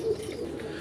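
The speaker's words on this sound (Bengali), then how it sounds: "সুপ্রিয় দর্শক, একজোড়া রাজগোল্লা কবুতর দেখাচ্ছি" A pair of Raj Golla pigeons coo softly and continuously at close range, a low murmuring call with no voices present.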